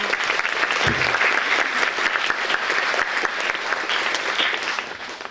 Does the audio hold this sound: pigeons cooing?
no